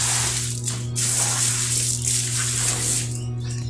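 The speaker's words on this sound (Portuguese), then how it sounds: "Agora eu jogo um pouquinho de água com sabão." Soapy water poured from a bucket onto a rug during washing gives a steady, close splashing rush over a constant low hum.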